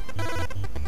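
A chiptune telephone ring from the NES game Zooming Secretary, a quick repeating electronic trill pulsing about four times in under a second, loud and alone.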